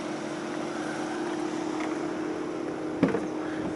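The 2.0 TFSI petrol engine of an Audi TT 2.0 TFSI Sport with 211 bhp idles in a steady, smooth hum, heard alone at a moderate distance, with one brief knock near the end.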